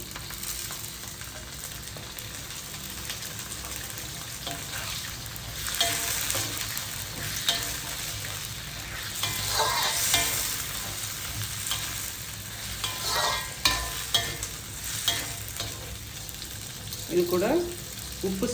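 Oil sizzles in a pan, a constant close crackle with louder bursts and clinks of stirring now and then, and no voices.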